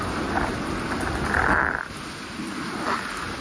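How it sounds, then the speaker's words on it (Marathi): Heavy rain falls steadily in a dense, even wash of noise, close and moderately loud, with no voices. "पाऊस जोरात पडतो"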